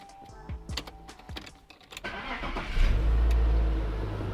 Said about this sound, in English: I actually don't know why I'm turning the car on